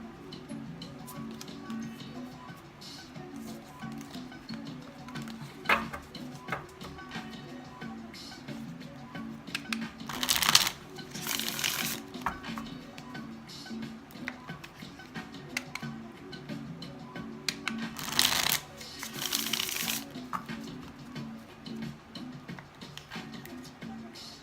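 A deck of tarot cards being shuffled, soft repeated riffling and ticking over a low hum, with two louder, longer bursts of cards cascading together.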